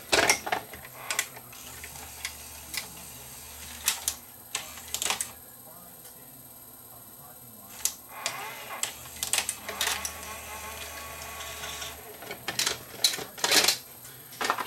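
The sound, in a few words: Sony SLHF360 front-loading VCR tape mechanism loading and ejecting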